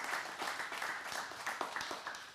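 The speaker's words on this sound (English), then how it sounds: "give them a round of applause" Audience applause at a community speaking event, a brief, fairly faint patter of many hands clapping with a few sharper individual claps.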